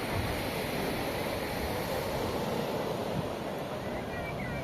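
Sea waves of the Bay of Bengal wash against an island shore in a continuous broad rush, mixed with steady wind noise throughout and no clear speech.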